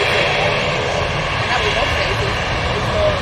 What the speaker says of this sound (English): we have this tap Embraer coming on in front of us